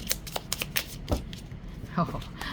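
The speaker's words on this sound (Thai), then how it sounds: "เดี๋ยวขอหยิบจับสับไพ่กันนิดนึงนะคะ" A deck of demon oracle cards is shuffled up close in a run of brisk, crisp riffling bursts and soft slaps.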